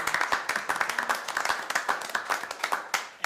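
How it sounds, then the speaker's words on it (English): A small crowd applauds at a town council meeting, a close, lively burst of brisk individual hand claps with an uneven rhythm that continues steadily without fading. "And a round of applause for her wedding."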